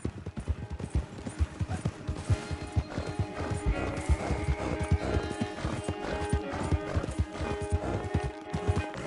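Horse hooves clip-clopping at a steady trot in the game Red Dead Redemption 2, loud and close with a rhythmic beat for the whole stretch, an occasional whinny and faint background music.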